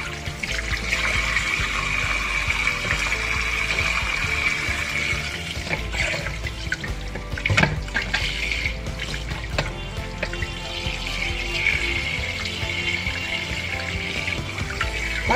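Tap water runs steadily over frozen prawns in a home kitchen sink, a continuous rushing splash that holds close and loud for the full length, with no talking.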